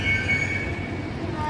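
An underground metro train pulls into a platform in Mumbai with a steady, loud rumble and a thin high metallic ring from the wheels, continuous throughout with no talk.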